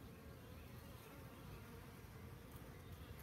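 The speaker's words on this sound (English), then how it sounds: "there's a lot of nurse bees here" Honey bees, many of them nurse bees, buzz on a hive frame during a Nicot system inspection, a dense continuous drone close to the microphone with no talk.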